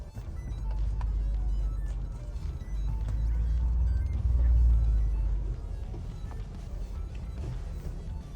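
A Ford Bronco crawls down a steep mountain trail in first gear with light braking, its engine a deep, steady rumble that swells and eases as it descends, with faint creaks and rattles over the top.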